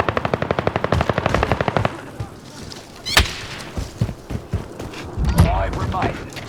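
Gunfire in Call of Duty Warzone: a loud, rapid automatic burst for about two seconds, then scattered single shots and thuds with a sharp crack in the middle, as voices talk in the background.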